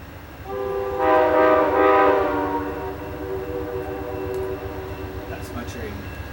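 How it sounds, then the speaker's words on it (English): Amtrak passenger train at Harpers Ferry, West Virginia, in winter, sounding a loud sustained horn blast near the start that fades as the train rolls past with rumbling wheels, heard from a nearby platform. "That's my train. That's my train."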